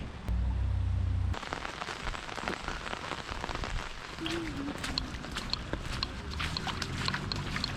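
Steady rain patters on surfaces outdoors near an Elora quarry, with scattered sharper drops and footsteps; a voice speaks over part of it.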